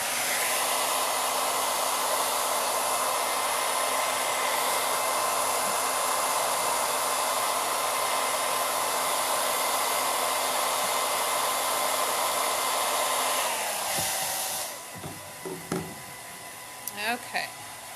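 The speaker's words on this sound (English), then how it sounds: "I think I'll blow dry it just to be sure." A hair dryer blowing on a freshly crafted comic-book-themed coaster, running as a steady, loud, close whir for about fourteen seconds before switching off and winding down, followed by a few soft handling knocks.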